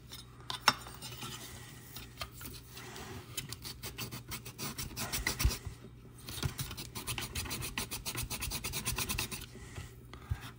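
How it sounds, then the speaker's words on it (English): A Scotch-Brite pad scrubs the corroded contacts of an N64 game cartridge, making a sustained dry rasping that runs in quick back-and-forth strokes, close and fairly loud, with short pauses between bursts. "I'm just using that to jab this Scotch-Brite into the little crevasse."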